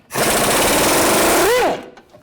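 A power tool, likely an impact wrench, spins off the idler arm nut with a 21mm socket on a 2000-06 Chevy Tahoe: one loud, continuous rattling burst of about a second and a half that winds down and stops.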